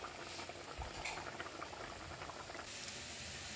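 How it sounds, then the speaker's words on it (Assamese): A fish curry with dock leaves simmers in a pot, giving a faint, steady bubbling patter with occasional soft pops. "ইতিমধ্যে এই জোলখন 3-4 মিনিট উতলা হৈ গৈছে"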